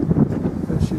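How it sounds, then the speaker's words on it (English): A gust of wind blasts across the microphone near a portable wind turbine being tested outdoors, a loud, buffeting, rumbling rush lasting about a second. "There's a gust there now."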